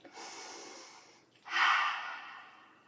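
A forceful open-mouthed lion's breath exhale in yoga practice, tongue out, a breathy rush of air that swells loudly after a softer breath, close and alone with no talk.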